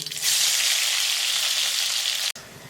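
Mustard seeds, ginger and garlic sizzle loudly in hot oil for a dhaba-style dahi bhindi gravy, a steady bright crackle running for over two seconds before cutting off abruptly, then resuming more softly.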